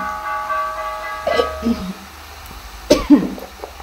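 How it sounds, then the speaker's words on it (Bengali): A woman coughs in a home kitchen while frying potatoes: two short, harsh coughing fits a couple of seconds apart, close to the microphone, over a quiet background hum. "খুব কাশি হচ্ছে"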